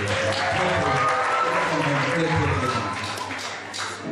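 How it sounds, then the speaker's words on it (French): An audience applauds at a 25th anniversary of priesthood celebration, with steady, dense clapping that fades slightly toward the end while voices carry on underneath. "Applaudissez pour la soeur."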